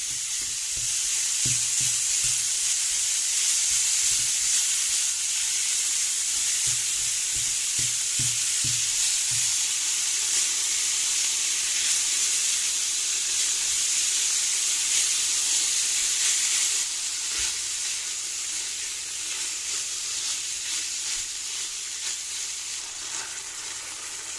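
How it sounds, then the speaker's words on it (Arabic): Minced meat fries in a hot pan on the stove, a steady loud sizzle with rhythmic scraping stirs early on, continuing alone without talk for the whole stretch. "هجهز الحشوة في طاسة على النار. هنزل باللحمة المفرومة"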